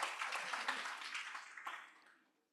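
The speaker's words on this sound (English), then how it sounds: "So big round of applause." Applause from the audience at a 2025 university commencement ceremony, a moderately faint wash of clapping that holds steady before fading away to silence over the last half second.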